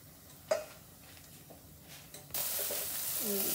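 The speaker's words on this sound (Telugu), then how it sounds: "ఇందులోనే ఆనియన్స్ కూడా ఫ్రై చేసుకుంటున్నాను." Chopped onions dropped into a hot pan for creamy veg pasta, starting with a faint clatter and then breaking into a steady, loud sizzle of frying that continues to the end.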